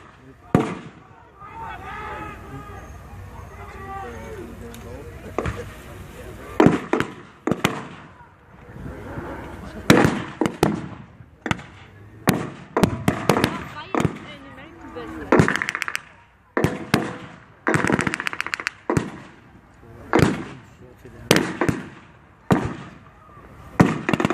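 Mortar and firework-style blasts at a World War 2 reenactment at Crowle, with many loud sharp bangs in irregular bursts, some close and some farther off, while someone talks over them.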